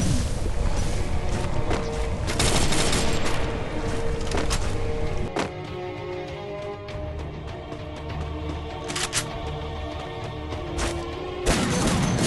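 Rapid gunfire with booming grenade explosions in the video game Free Fire, loud and continuous, sharp bursts standing out near the end.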